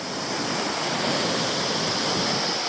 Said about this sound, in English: Goes down several more decent sized falls all the way down there.